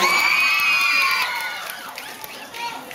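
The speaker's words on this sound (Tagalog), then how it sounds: "Wala bang hiyawan dyan?" Crowd at a Ms. Gay pageant during the Niyog Festival 2023 cheers and shouts with high whoops and yells, loud and close at first, then easing and flaring briefly near the end.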